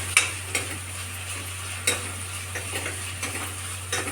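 Curry leaves fry in oil in a pan for a restaurant-style paneer fry, with steady close sizzling and a few sharp scrapes and clinks of a spoon stirring, and no talking.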